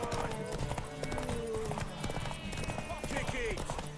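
Rapid clip-clop of horse hooves from a horse race in Velen in The Witcher 3 drums steadily and close, under a voice calling out.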